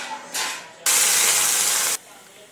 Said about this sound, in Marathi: आता दूध टाकते.